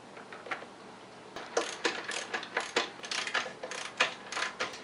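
Wrench clicking as it rotates the chain carrier on a Polaris 400L 4x4 ATV, a quick run of close, sharp metallic ratcheting ticks in an irregular rhythm, moderately loud with no talking.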